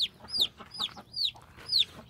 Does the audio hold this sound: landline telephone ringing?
no